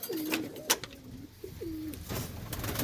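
Jacobin pigeons coo in a pen, several soft, low rolling calls repeating one after another up close, with a few sharper chirps and faint rustling in between.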